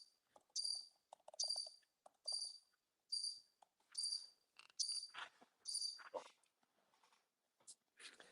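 Cricket chirping sound effect, a clean series of short, evenly spaced chirps in regular pulses against near silence, with a few softer scratchy sounds between the later chirps.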